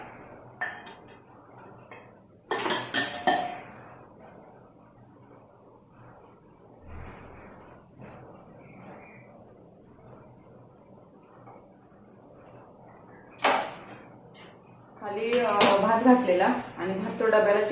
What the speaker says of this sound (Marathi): कुकरमधला डबा काढून घेतला